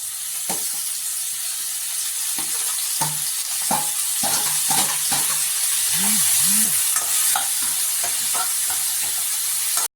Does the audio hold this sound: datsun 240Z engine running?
no